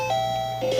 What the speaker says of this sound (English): what you just heard there was a level up.